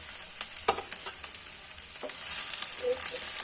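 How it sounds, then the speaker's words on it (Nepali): Ginger and garlic fry in a pan for fish pickle, giving a steady, close hiss of sizzling oil with a few sharp crackles and light stirring taps, no voices. "अब मजाले फ्राई गर्नुपर्छ अदुवा लसुनलाई।"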